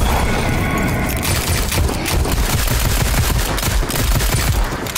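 Enemies in a round-based survival video game fire dense, rapid bursts of gunfire, loud and close, crackling almost continuously with heavy low thuds beneath, and no voices.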